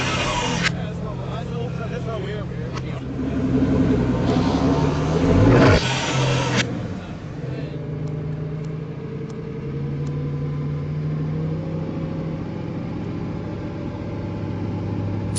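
Orange Lamborghini Aventador LP 702 Roadster engine swelling into a loud rev that peaks and cuts off, then settling to a lower rumble, with someone talking throughout.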